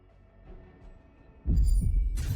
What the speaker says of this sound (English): Oh, the heartbeat.